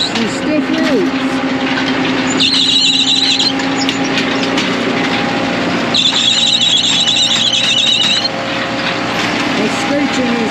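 Sod cutter working frozen ground on a winter sod farm, its belt slipping with a continuous loud mechanical drone and two sustained high screeching bursts, each lasting a few seconds, over steady engine noise.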